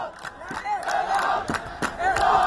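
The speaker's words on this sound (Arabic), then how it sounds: "ادي رجع لنا صوت الجمهور مره ثانيه" A football stadium crowd at a Damietta versus El Nasr league match roars and chants in a loud, continuous swell with rhythmic surges.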